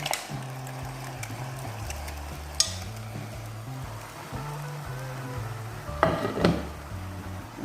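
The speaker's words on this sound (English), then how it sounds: "I will be turning my vongole inside the spaghetti" Spaghetti with vongole mussels is turned and stirred in a pan, giving a soft, continuous sizzle and clatter. Occasional utensil clinks land near the end, and no voices are heard.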